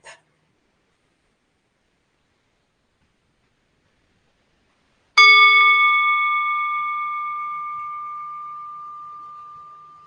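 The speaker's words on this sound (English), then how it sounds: "So I will ring the bell." A meditation bell rings once at the close of a daily meditation session. After a long silence comes a single clear strike, and its bright tone hangs and fades slowly over several seconds, heard alone.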